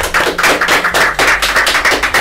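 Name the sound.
audience applause in a studio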